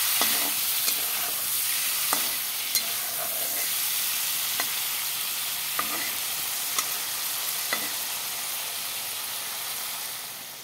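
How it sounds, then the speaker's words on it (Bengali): Paneer cubes frying in hot oil in a pan, a steady bright sizzle throughout with scattered small pops and crackles, close and continuous with no talking. "পনিরগুলো ঢেলে দিয়েছি। পনিরগুলো ভাজা হয়ে যাক,"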